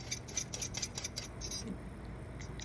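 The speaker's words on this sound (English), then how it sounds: "Peel my rutabaga." A vegetable peeler scrapes along a rutabaga in quick, repeated strokes, close and fairly quiet, with a steady rhythm of scratchy bursts that thins out toward the end.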